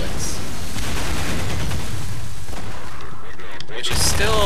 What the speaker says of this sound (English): The turret, it hits like 1 out of 8 bullets.